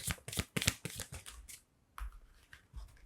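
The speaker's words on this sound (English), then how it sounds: "let me draw more cards as well" Tarot cards riffled and shuffled close up in quick bursts of crisp flapping, then a pause and softer slides and taps as cards are drawn and laid down, with no speech.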